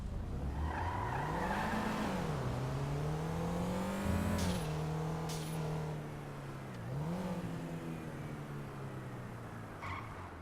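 Game car engine from a bus being driven fast in GTA 5, a loud sustained drone rising and falling as it revs and shifts, with tire skids breaking through around the middle, continuous throughout without talk.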